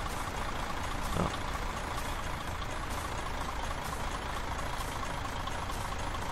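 Mercedes truck in Euro Truck Simulator 2, its diesel engine rumbling steadily and continuously at a constant pitch, with one short spoken word briefly over the drone.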